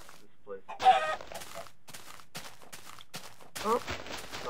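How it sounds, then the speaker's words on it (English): Chicken clucking in the Minecraft video game, several short squawking clucks in bursts with quiet gaps, fairly close and clear, alongside brief speech. "Bad chicken."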